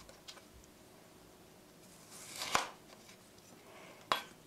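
A kitchen knife slicing food into 0.5 cm thick pieces: two crisp, isolated cuts against a board, quiet and close, with near silence between them.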